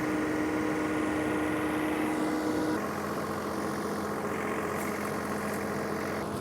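A John Deere tractor runs while mowing a big tower property, its engine a steady, loud drone with a tonal hum that shifts slightly partway through, with no talk over it.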